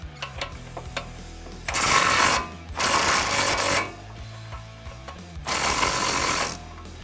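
A power tool loosens the upper ball joint nut on a 2019 Ford F150 during a Fox 2.0 shock upgrade. It runs in three close whirring bursts of a second or so each, with quiet mechanical clicks between them.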